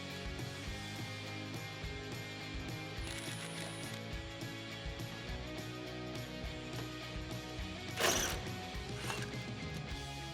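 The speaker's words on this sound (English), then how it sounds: "remove the 2 bolts that are holding on our taillight using a T15 Torx socket" Ratchet fitted with a T15 Torx socket backing out taillight bolts on a 2014-2018 Silverado 1500, giving quiet, steady mechanical clicking throughout with a sharper burst of noise near the end.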